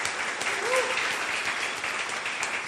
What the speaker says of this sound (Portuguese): pedir uma salva de palmas para o Agriberto e para o Shecker